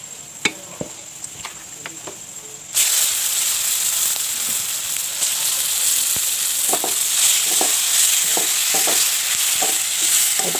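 Turmeric and spices fry in hot oil in a pan for a chicken curry with colocasia, a steady close sizzle after a quieter start, with scraping stirs and clacks from a spoon.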